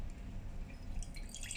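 Faint drips of water falling from a funnel with oil held back above, a few soft scattered drops over low background hum with no talking.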